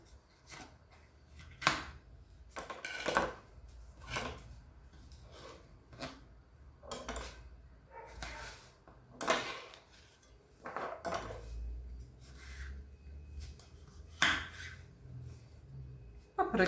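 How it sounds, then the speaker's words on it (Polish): A knife dicing bell pepper on a board: sharp, irregular chopping knocks spaced a second or so apart, fairly quiet and close, with faint background hum between the cuts. "Paprykę kroję w kostkę"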